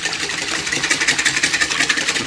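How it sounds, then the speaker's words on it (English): Egg whites whisked briskly in a bowl, a fast, steady rhythmic swishing and ticking of the whisk, close and fairly loud with no talking. "I'm gonna whisk up the egg whites a little bit just to break them up"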